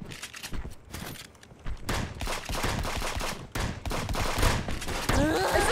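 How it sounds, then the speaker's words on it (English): Shotguns fire in a frantic multiplayer shootout in the video game Friends Vs Friends, with bursts of loud, rapid overlapping blasts separated by brief lulls, mixed with other game effects. "Is this battle of shotguns or what?"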